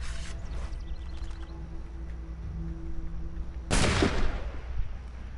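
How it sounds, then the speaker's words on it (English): A single loud gunshot in the game Assassin's Creed 3 Remastered, a sharp burst rising abruptly from a low ambient hum and fading into a brief echo, alone without talk. "I'm gonna shoot this thing."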